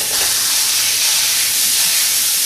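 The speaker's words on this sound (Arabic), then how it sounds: "بعد ما بدأت تتحمر البصلة عندي مثل هيك، رح أضيف اللحمة" Meat hitting browning onions in a pan for potato kubbeh, a loud, dense, continuous sizzle hissing close up without any talk.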